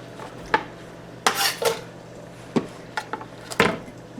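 Raw fried-rice ingredients go into a pan: several separate clattering thumps and metallic clinks of utensils against cookware, spaced irregularly over a quiet background.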